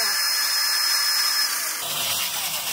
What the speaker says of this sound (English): you're going to keep drilling each of the 4 marks